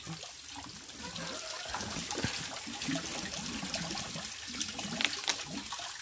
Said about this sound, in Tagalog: Sa gripo na extension natin dito sa lababo po mga kabayan para sulit.